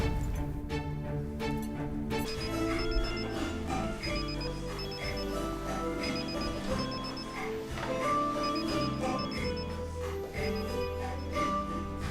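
Telephone ringback tone repeating in a steady pattern while a call to someone goes through, heard clearly over a soft musical background with no talking.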